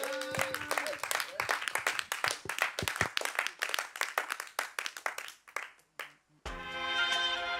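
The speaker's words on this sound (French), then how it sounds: "allez, on applaudit" An audience at a small rap concert claps in a lively burst of sharp, distinct handclaps that die down, then music starts up.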